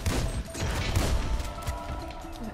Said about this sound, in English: Who the hell is fucking shooting?